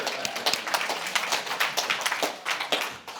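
Steady, moderately loud clapping from an audience at a regional business event, a dense patter of hands running throughout with no talking over it.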